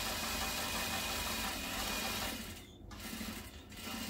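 A sewing machine stitches a seam on a fabric garment, whirring steadily and fairly quietly, pausing briefly before running on again.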